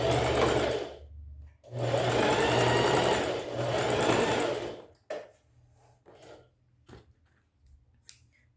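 A sewing machine stitches a fabric beret seam in two loud, close bursts of rapid whirring, then stops, leaving a few faint clicks and handling noises.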